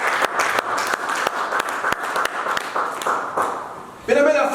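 Church congregation clapping and acclaiming together, a dense sustained applause with sharp individual claps, before a loud voice takes over at the close.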